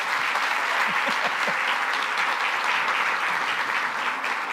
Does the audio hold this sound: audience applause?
yes